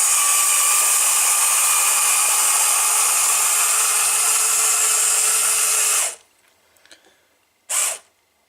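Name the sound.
LEGO elevator lifted by a battery-powered motor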